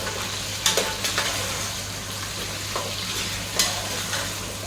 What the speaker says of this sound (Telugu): అల్లం వెల్లి పేస్ట్ వేసుకొని ఒక స్పూన్ వేసుకున్నాను ఒక స్పూన్ అల్లం వెల్లి పేస్ట్ నేను కూడా బాగా కలుపుతున్నాను